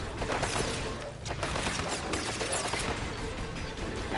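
Dense, continuous gunfire and explosive crashes from the PSVR shooter Farpoint, including a sniper's shots amid a sustained loud barrage with no clear gaps.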